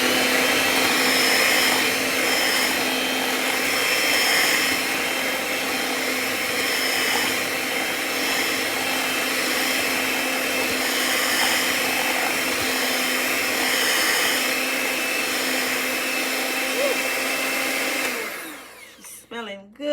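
An electric mixer whirs loud and steady while blending plantain muffin batter, a constant motor drone lasting about eighteen seconds before switching off with a few clatters.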